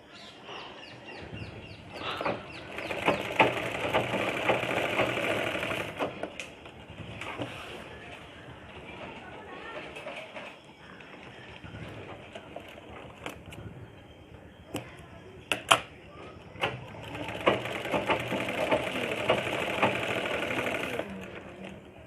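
A sewing machine stitches lungi cloth in steady bursts of rapid, whirring needle action, pausing and restarting several times, with light handling noises and occasional faint background voices.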